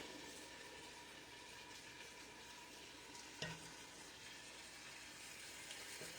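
Onions sautéing in a tall pot for Filipino pancit make a faint, steady sizzle and hiss throughout, with one brief knock of a utensil midway and no talk.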